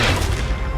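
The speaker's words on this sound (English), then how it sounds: "cannon from 10 years away kills me" A cannon shot in a video game: a loud, dense booming blast filling the whole clip, heavy low rumble with a crashing wash, no talk over it.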